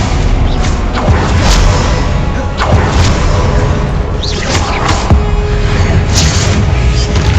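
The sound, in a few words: spell-casting effects (Stupefy, Confringo) in Hogwarts Legacy video game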